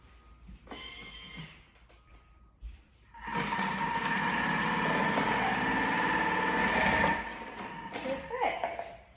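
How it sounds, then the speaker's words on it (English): A Thermomix food processor grates zucchini thick, its motor whirring loudly and steadily for several seconds before winding down, with softer handling clatter before and after. "So zucchini in there, and we are going to grate thick."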